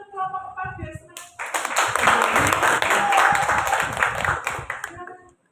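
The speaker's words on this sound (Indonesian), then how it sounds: "Kita kasih tepuk tangan untuk kelompok 4 biar semangat." Students in a classroom clap for a presenting group, a loud, close round of applause that rises sharply after a brief spoken lead-in and holds for several seconds before stopping.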